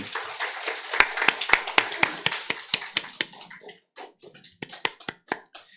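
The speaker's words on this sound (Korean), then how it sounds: "우리 홍장표 장로님 일어나서 박수 치셨어요." Scattered hand claps ring out in a church during a Sunday service as an elder stands to applaud, a fairly close, uneven run of sharp claps that thins out toward the end, alone without talk.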